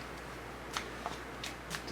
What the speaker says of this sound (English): Let's get some shuffle going on the second row.